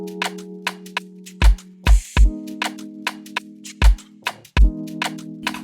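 A song beat with hard-hitting drums over sustained keyboard chords, punchy kick thumps and crisp hi-hat ticks in a steady groove, no voices.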